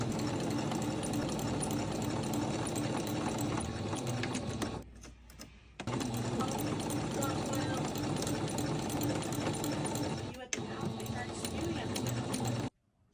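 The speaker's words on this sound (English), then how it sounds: "I'll sew those together with a straight stitch" A sewing machine runs a straight stitch through festival-outfit fabric with a steady, fast, close mechanical chatter, pausing briefly midway and then resuming until it stops near the end.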